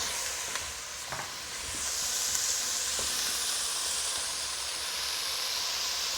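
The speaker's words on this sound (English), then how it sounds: "Scrape that bottom, that's flavor. Just give them a nice scorch." Short ribs searing in a pot over medium-high heat, giving a steady, close sizzle and hiss with a few faint scraping touches throughout.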